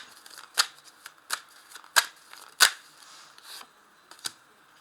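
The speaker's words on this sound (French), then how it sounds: "on va compléter ce tirage, bien sûr, avec l'autre tarot de Marseille" Tarot de Marseille cards being shuffled for a reading, giving a run of soft papery riffles with several sharper snaps and slaps of the deck, close and fairly quiet, with no voices.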